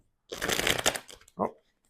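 A deck of tarot cards being shuffled by hand, a dense riffling flutter lasting about a second, then a short soft pause and a brief final tap or slide of cards, close and clear with no speech.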